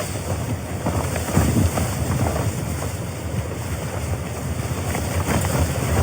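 Strong wind gusts against a camping tarp in the rain, making a loud, steady broadband roar with buffeting surges throughout.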